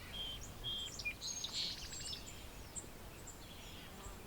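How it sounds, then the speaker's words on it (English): Faint, distant nasal calls of a white-breasted nuthatch, a few short notes near the start, over a steady hiss of outdoor background noise. "there's white-breasted nuthatch"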